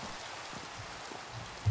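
Steady rain in Minecraft hisses evenly throughout, a soft continuous wash with a brief low thump near the end.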